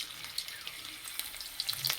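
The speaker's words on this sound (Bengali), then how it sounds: "তেলে দেবো কাঁচা লঙ্কা," Green chilies hit hot oil in a wok, giving a bright crackling sizzle with scattered sharp pops, close and fairly loud, with no talking.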